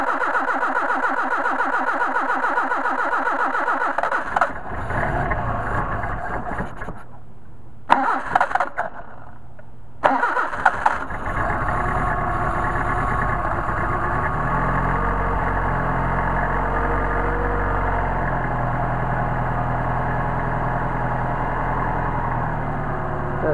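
A Mercedes 190SL engine with Solex carburetors cranks, stumbles through a couple of short bursts, then catches and settles into a loud, steady, close rumbling idle that continues to the end.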